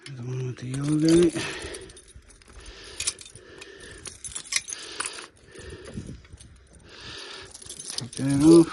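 A bunch of keys jangles close by, fetched after arriving home from a bike ride to the store, with a voice talking at the start and end.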